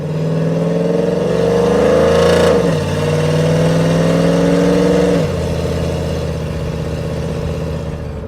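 A camshaft-equipped Chevrolet Silverado with a 5.3L V8 and long tube headers revs loudly and close, holding a deep, raspy drone that rises, dips back and settles toward a rough idle.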